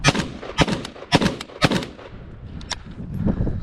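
An MK18 rifle fires at a range: five or six sharp, loud shots in quick succession, close by, with echoes fading afterward and a low rumble at the end.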